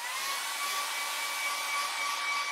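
A hair dryer dries a watercolour painting of a castle, blowing as a loud, steady close-up whoosh with no voices.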